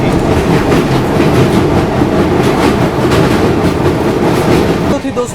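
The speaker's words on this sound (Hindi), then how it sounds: "तो थी दोस्तों आप लोगों की यशवंतपुर संपर्क क्रांति, वो कर्नाटका संपर्क क्रांति एक्सप्रेस" The Karnataka Sampark Kranti Express rushes past close by with a loud, continuous rumble and rapid clickety-clack of wheels, then cuts off abruptly near the end.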